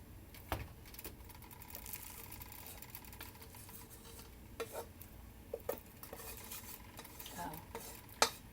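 Rice is dumped into a pot for a jambalaya-style dish and stirred, with quiet scraping and soft clinks of the spoon against the pot over a faint sizzle.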